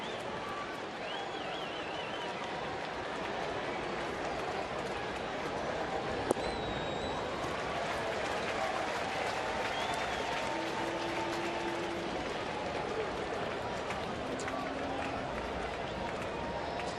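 Partisan home baseball crowd in a Cincinnati stadium reacting to an umpire's call, a broad steady roar of many voices and noise sustained throughout, fairly distant and dense with no single voice standing out.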